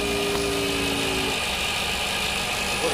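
A steady hum from a Fisher & Paykel electric motor powering a bulb, with a constant mechanical drone and a faint tonal whine, continuous and close, with no voices.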